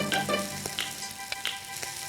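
Pieces of pork liver hitting a hot pan of menudo, giving a steady frying sizzle with short crackling bursts and soft stirring clatter, close and alone.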